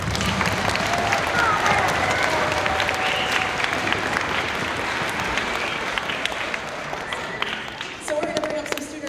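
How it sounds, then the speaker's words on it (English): An audience at a school spring concert applauds the orchestra with loud, sustained clapping, the crowd's hands rattling densely for several seconds before a voice begins speaking as the applause tapers. "Let's give them another round of applause."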